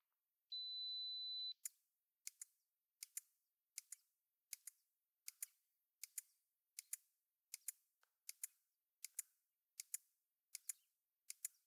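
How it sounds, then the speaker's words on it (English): Fujifilm GFX 50S II medium-format camera firing sixteen pixel-shift shutter clicks in a steady, evenly spaced series after a short electronic beep, crisp and close in near silence. "Sixteen shots for pixel shift."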